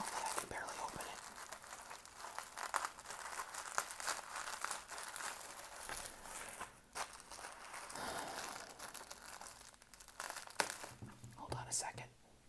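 A heavily taped package is pried open close up: crinkling and crumpling with short tearing bursts through the clip, with soft whispering mixed in.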